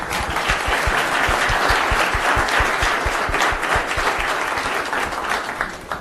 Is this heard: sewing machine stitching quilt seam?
no